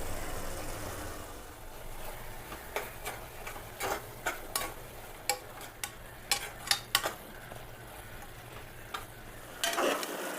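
Avarekalu masala with curd, turmeric and kasuri methi stir-frying in oil: a low, steady sizzle under a run of sharp, irregular spatula clicks against the pan, bunching in the middle and ending in a louder scrape.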